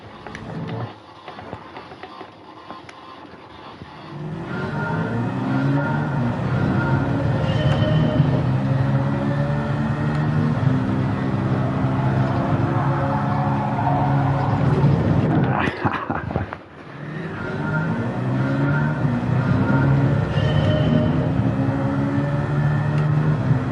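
A race car engine in a racing video game, a steady loud drone whose pitch rises and falls through gear changes for over twenty seconds, briefly dipping once before resuming.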